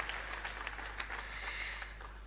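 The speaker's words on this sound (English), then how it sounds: "A round of applause to our Pro-Chancellor." Faint, thin applause from a seated audience at a University of Lagos convocation greeting the Pro-Chancellor, scattered claps over a low steady hum, somewhat distant.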